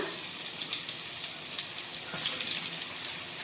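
Crushed garlic frying in hot oil in a pan, a steady crackling sizzle with small bursts of popping, fairly quiet and close, with no voices.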